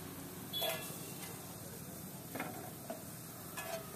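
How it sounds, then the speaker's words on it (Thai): Boiled potatoes stir-fried for biryani-style fried rice: a faint, steady sizzle with a few soft scraping strokes of a spatula in the pan, close but quiet. "ผัดมันเข้าไปผัด"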